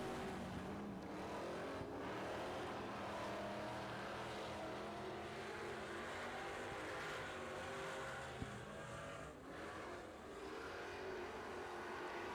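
Race cars roar steadily around a track at a local racing event, a broad, continuous engine drone heard from a distance with slight swells as the field passes.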